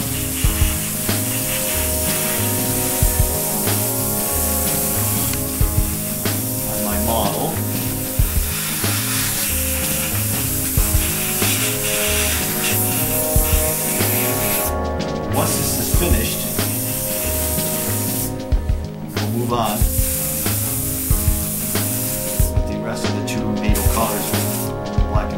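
An airbrush sprays Tamiya NATO green base coat paint, a continuous close hiss running throughout with brief pauses, under background music and occasional talking.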